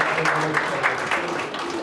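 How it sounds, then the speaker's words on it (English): A crowd at a Scout pack magic show claps in a short burst of applause, fairly close, with voices mixed in among the clapping. "everybody give him a great big round of applause"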